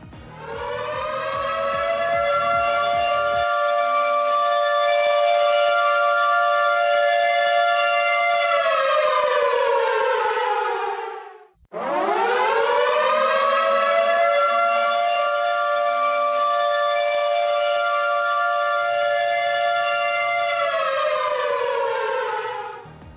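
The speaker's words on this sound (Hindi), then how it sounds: "अब आगे बढ़ने से पहले आप हमारे स्टूडियो से ये सायरन की आवाज सुनिए" A civil defense siren wails loudly in two long sustained blasts, each rising, holding, then falling away, with a brief gap between them.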